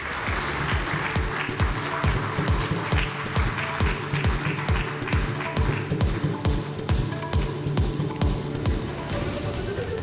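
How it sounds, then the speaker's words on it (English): A conference audience applauds with dense, sustained clapping that stays loud and steady throughout, with no voices on top. "A round of applause, ladies and gentlemen."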